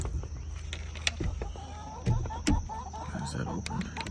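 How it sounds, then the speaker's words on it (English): Chickens cluck softly nearby in scattered bursts, mixed with clattering and handling noises, against a steady hum. "I got chickens, guys."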